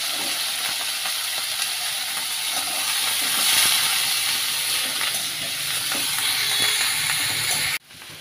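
Onions sizzle in hot oil in a pan for a Bengali-style egg curry: a steady, bright frying hiss runs near and continuous, with faint stirring ticks, until the sound cuts off abruptly near the end, with no voices.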